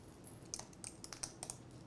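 A computer keyboard tapped in a short burst of quiet, irregular key clicks, close by but faint, with no voices.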